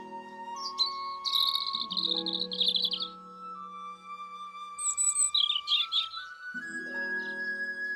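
Small robin chirping in bright, rapid trills, two separate bursts over a soft sustained musical background, with no talk.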